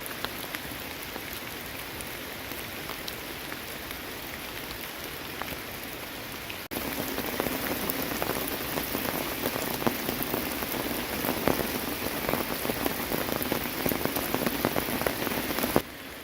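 Heavy rain of a tropical storm pattering on a camping tent, a dense steady hiss with individual drops ticking throughout, growing louder and harder partway through and continuing alone without voices.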